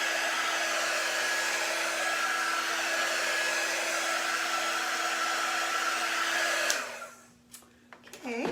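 A hair dryer blows close and loud in a steady whoosh over a chalk-painted surface to dry off the moisture, then switches off and winds down near the end.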